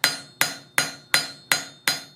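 Six evenly spaced hammer blows ring sharply on an anvil while forging metal calla lily leaves, each strike bright and metallic with a quick decaying ring, close and alone.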